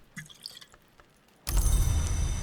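Water poured out in the Book of Hours game: a few faint drips and small clicks at first, then a loud rushing pour that starts suddenly and keeps going to the end.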